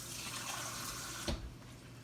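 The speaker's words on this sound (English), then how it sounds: "A little bit more water." Water pours from a tap into a pan of gravy being thinned out, a soft continuous running splash with one brief louder splash near the end, heard alone at moderate volume.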